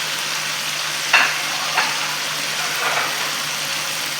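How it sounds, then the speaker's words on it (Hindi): Moong dal with kasuri methi sizzles steadily in a hot pan, a continuous close frying hiss broken by a few sharp scraping strokes of stirring. "इस मोमेंट पर मैं कसूरी मेथी डाल के इसे चलाऊंगी"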